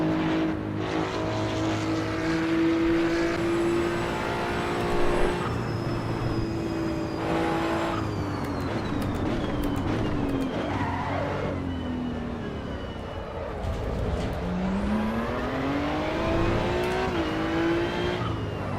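Racing car in the Assetto Corsa EVO game braking hard with the front inside wheel locking up, the engine droning and shifting pitch steadily throughout with tyre scrub under it. The sound is continuous, close and loud, with no talking.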